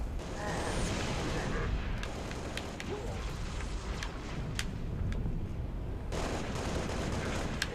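Gunfire in the video game Halo Reach, a continuous rattle of rapid shots and explosive bursts over a rumbling battlefield, with sharp individual cracks standing out.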